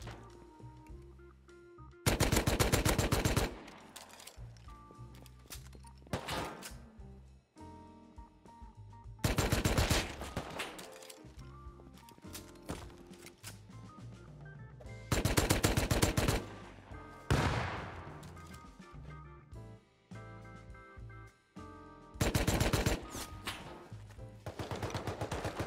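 Automatic gunfire bursts from guns in the survival game Rust, loud rapid volleys recurring roughly every six seconds over a steady low game ambience, with heavy crackling impacts between bursts.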